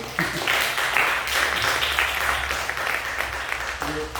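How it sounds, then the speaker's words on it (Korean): A church congregation claps during a Sunday worship service to celebrate a member's upcoming wedding. Dense, steady applause fills the room for about four seconds at a fairly loud level before it begins to thin out. "박수해. 박수."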